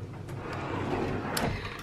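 Hotel room drawers in Morocco being slid open and shut, a soft run of scraping wooden slides and light knocks over quiet room tone.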